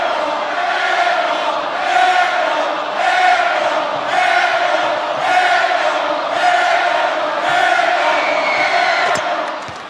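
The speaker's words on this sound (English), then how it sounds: "the no-look pass to Broome on the breakaway to get this crowd to erupt here" A packed basketball arena crowd at the Jungle roars in sustained, rhythmically surging cheers and chants during a college game, Auburn against Georgia, loud and continuous with a faint announcer voice beneath.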